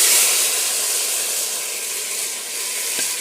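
Chicken meat poured into a clay pot hisses in a steady, loud, broad sizzle that stays even throughout, with a faint knock near the end and no talking.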